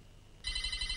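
A telephone starts ringing partway through, a bright sustained electric bell trill that stays loud to the end after a brief quiet room tone.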